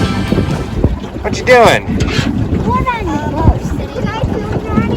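A boat moves across the water in Yellowstone, its motor and water noise buffeted by strong wind gusts against the microphone while people talk and a voice rings out over the ride.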